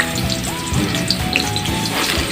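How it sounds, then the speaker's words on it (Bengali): Potatoes fry in hot oil in a pan for a vegetarian paneer dish, a close, steady sizzle with crackling pops and faint stirring clinks. "ভেজে নেবো আলুগুলোকে।"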